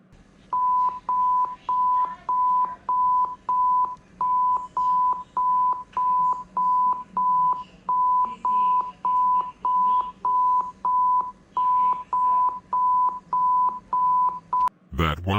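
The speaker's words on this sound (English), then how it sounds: "for our final one, it's the French Eas Alarm." A French emergency alert system alarm: a loud, rapid series of identical electronic beeps in evenly spaced bursts, repeating steadily for about fifteen seconds before cutting off abruptly.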